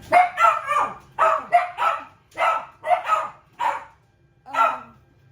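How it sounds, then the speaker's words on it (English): Two small dachshunds barking in short bursts, several yaps in quick succession with brief pauses between, fairly close and loud, no talking. "I got two little dachshunds and they will barking"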